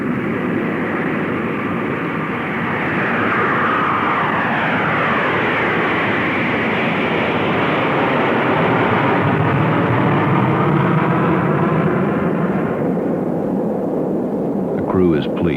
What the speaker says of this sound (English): aptain Fitz Fulton and co-pilot Tom McMurtry will fly the carrier aircraft as chase planes help monitor the operation